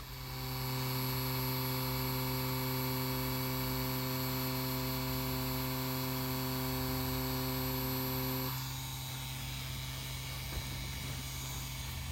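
Mummy wireless tattoo machine running with an ink-filled needle, pulling lines on practice skin: a steady, loud mechanical hum and buzz held throughout, its tone shifting and softening slightly near the end as the needle works.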